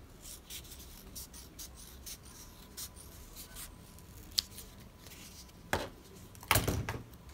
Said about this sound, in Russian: И теперь я по 2, чтобы побыстрее было, вырезаю